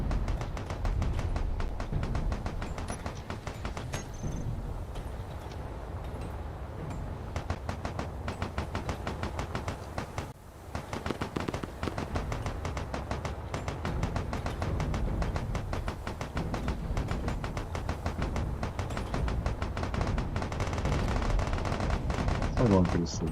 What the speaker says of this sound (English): why do you keep shooting?